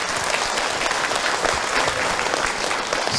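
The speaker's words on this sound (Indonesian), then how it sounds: "Baik, tepuk tangan untuk Ahilman." An audience at a religious talk breaks into loud, dense applause, a continuous roar of many hands clapping that stays steady and close for the whole stretch.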